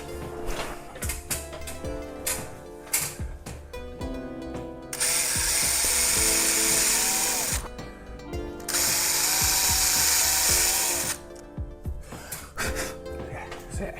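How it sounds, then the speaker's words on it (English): A power drill whirs loudly in two long sustained runs drilling two holes to mount a door closer, with clanks and handling noises of tools before and between them. "I'm going to drill these 2 holes and then fix into that."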